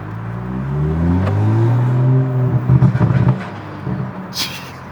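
A modified Toyota Supra A91-MT on the road, its engine droning and climbing in pitch before a rapid burst of exhaust pops and crackles, loud and close with no talk.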